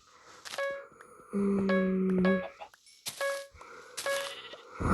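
Several short, synthetic-sounding goat bleats repeat in bursts, mixed with bright chime-like tones typical of a video game.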